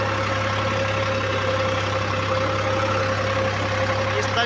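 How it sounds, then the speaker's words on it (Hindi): A tractor engine runs steadily while sowing wheat in a field, a loud continuous mid-to-low drone with a constant hum and slight knocking texture throughout, close by and uninterrupted. "तो अभी ड्राइवर साहब थक गए तो मैं ट्रैक्टर चला रहा हूँ, देख लीजिए।"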